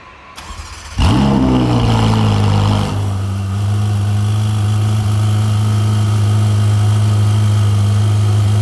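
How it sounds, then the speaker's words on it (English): A powerful Ferrari sports-car engine fires up with a sharp roar, revs high, then settles into a loud, steady idle rumble close by. "you also buy a Ferrari for its sound. Check this out."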